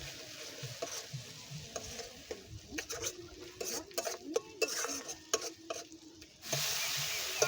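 Spices sizzle in hot oil in a pan for a fish curry, with repeated scraping and clinking stirring strokes over a soft frying hiss, then a louder, steadier sizzle near the end.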